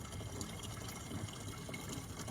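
A steady, continuous rush of water pouring and gushing into a tank, a constant wash of noise with no breaks or voices.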